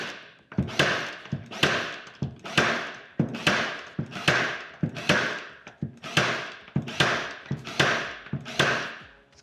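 Milwaukee M12 3/8-inch crown stapler driving staples into wood, about eleven sharp percussive shots in a steady rhythm roughly once a second, each a loud close snap with a brief decaying tail and no talking.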